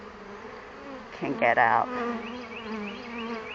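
Honeybees buzzing around an open hive during a spring inspection, a close, continuous drone with a short spoken phrase over it midway.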